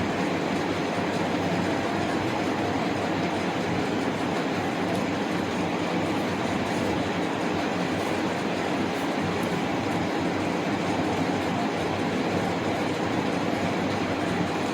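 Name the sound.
passing vehicles traffic noise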